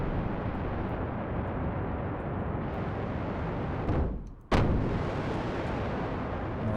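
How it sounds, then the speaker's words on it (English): Continuous broadband rumbling blasts in the Kerbal Space Program game, loud and sustained, briefly cutting out near the end before a sharp burst resumes the roar. "Oh, explosions."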